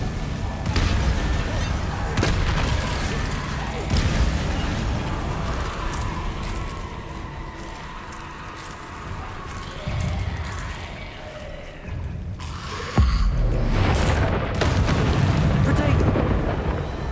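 Spell effects from the video game Hogwarts Legacy, with Expelliarmus casting amid combat: loud, dense bursts and booming impacts roll on continuously, and a sharp, heavy hit lands near the end over constant rumbling background action.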